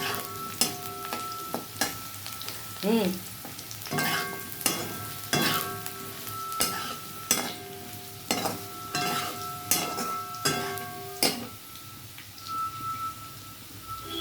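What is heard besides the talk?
potatoes frying in oil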